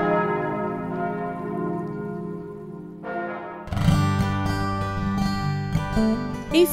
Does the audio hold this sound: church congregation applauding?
no